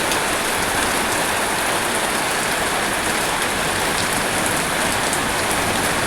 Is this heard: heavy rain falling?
yes